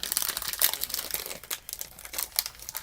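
Foil or plastic wrapping on a pack of trading cards crinkles and crumples steadily as it is torn open, close and fairly loud, with no talking.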